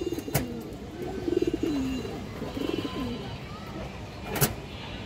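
Army pigeons, a female among them, give two clear cooing phrases up close, with sharp brief knocks at the start and end and a quiet room tone between.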